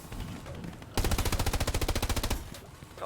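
A single sustained burst of rapid automatic gunfire in the WWII shooter Hell Let Loose rattles loud and close for about a second and a half, its evenly spaced shots standing out against quieter ambient battle noise.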